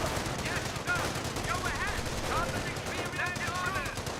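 Sustained bursts of .30 cal machine gun fire in the Company of Heroes video game, with several guns hammering steadily and close throughout while a voice talks over the shooting.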